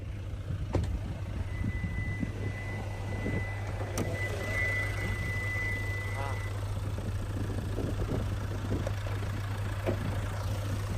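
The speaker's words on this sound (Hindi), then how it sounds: "तो ये है 2000 CC inline 4 cylinder common rail direct injection smart stream are D4 HD diesel engine." A 2022 Hyundai Tucson Signature 4WD with a 2.0-litre inline four-cylinder common-rail diesel idling with the bonnet open, a quiet steady low hum with a few faint clicks and a thin tone above it.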